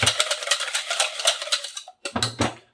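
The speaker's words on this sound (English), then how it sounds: "3 eggs into a mixing bowl and whisk them up." Three eggs being whisked in a mixing bowl make rapid, rhythmic clicking and sloshing, close and steady, then a brief pause before the quick strokes start again.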